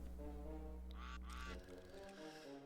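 Ducks honk several times in quick succession, close and clear, over a steady low hum.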